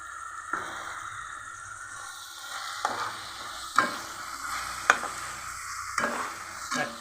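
Krishna river gurka fish curry cooks in a pan with ginger paste and turmeric, giving a soft steady sizzle and bubbling, broken by several sharper scrapes and clinks of a spoon stirring, close by.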